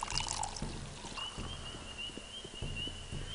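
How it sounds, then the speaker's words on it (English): Water pours from a drinking spigot into bottles in the Pathologic video game, a close trickling stream with a few knocks and clunks alongside it, heard without speech. "Let's see if I can fill up more water."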